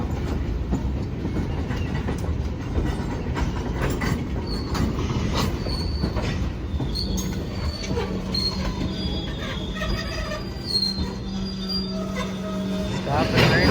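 Freight cars being switched on the Hamilton Northwestern Railroad, with engines moving the cars in a steady rolling rumble, wheel squeals and clanks rising over it, close and continuous.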